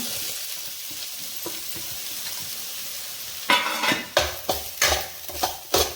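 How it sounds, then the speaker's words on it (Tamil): Grated coconut roasting in a pan for rava laddu, a soft sizzle that turns into a rhythmic series of scraping, stirring strokes against the pan, close and loud, with no one speaking. "தேங்காய் துருவலை இது மாதிரி வறுத்து போட்டோம்னா சீக்கிரம் கெடாதுங்க"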